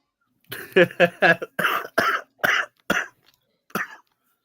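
A close, loud string of about eight harsh coughs in quick succession, some throaty and voiced, then a short pause before one final cough.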